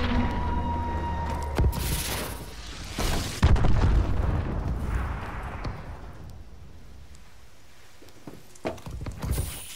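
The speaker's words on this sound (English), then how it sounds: "Enemy missile strikes." Enemy missile strikes land in Call of Duty: Advanced Warfare, producing a few heavy booming blasts with rumbling debris that fade into scattered smaller impacts and distant pops amid game ambience.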